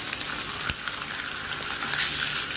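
Bologna fries in a pan after being flipped, a dense close crackling sizzle with scattered sharper pops running steadily throughout.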